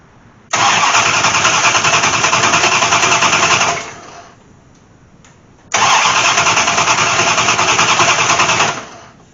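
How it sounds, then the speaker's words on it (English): An old engine that sat nearly six years with rat-nest wiring and MSD ignition trouble cranks and catches twice, each a loud, steady three-second burst of rough running separated by a quiet pause. "we'll give her a whir, see if it'll crank"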